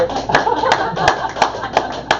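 Sparse clapping from a small audience at a local magic show, about six distinct, evenly spaced claps over a quiet murmur rather than a full ovation.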